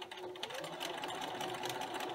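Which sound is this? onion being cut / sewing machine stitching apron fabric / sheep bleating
sewing machine stitching apron fabric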